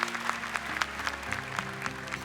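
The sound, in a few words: audience applause for the jury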